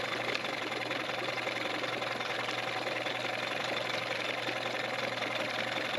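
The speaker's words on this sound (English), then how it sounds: "Okay, so now the engine's running, doesn't sound too bad, and it's pumping water and everything" A refurbished Johnson 15 outboard engine idles in gear, giving a steady, continuous mid-pitched drone with a constant low hum and no pauses, close and alone.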